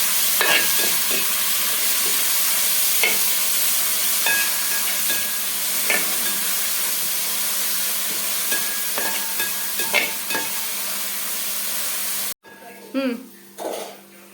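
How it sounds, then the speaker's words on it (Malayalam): Onions and tomatoes frying in a pan with a little salt for chicken curry, stirred with scraping strokes over a steady close sizzle that runs for about twelve seconds before cutting off, followed by a brief clatter. "അതിനുശേഷം നമ്മൾ നന്നായിട്ട് ഇളക്കി കൊടുക്കാം."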